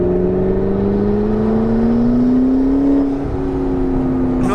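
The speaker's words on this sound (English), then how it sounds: "Just listen to the turbos." A McLaren 650S Spider accelerating, its twin-turbo engine giving a loud, steady whirring drone that rises in pitch, heard from inside the car, with a brief shift near the end.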